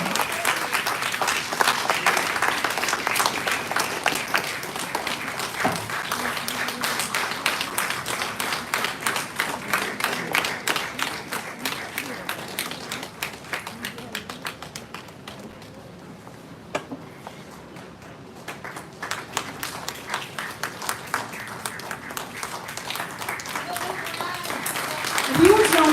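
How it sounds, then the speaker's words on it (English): Audience applauding at a school event, rapid rhythmic clapping that swells, thins briefly midway, then builds again, with a voice speaking over it at times. "A huge round of applause, ladies and gentlemen. Let the cheering go on."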